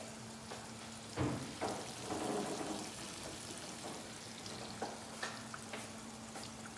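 Food browning in a frying pan, a steady close sizzle and crackle with a few louder pops and stirring clatters scattered through.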